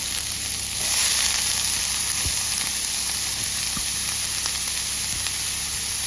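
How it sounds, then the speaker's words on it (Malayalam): Sliced onions sizzle steadily in hot oil after mustard seeds, a loud continuous frying hiss with a few soft stirring taps, no voices. "കടുക് പൊട്ടി വന്ന് അതിലേക്ക് നമ്മൾ സവാള പൊട്ടി വെച്ച് ഇട്ട് കൊടുക്കുക."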